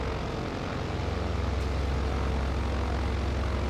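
Carbon Cub light propeller aircraft in Microsoft Flight Simulator 2020 droning steadily with a low engine hum and buzzing propeller, loud and continuous throughout.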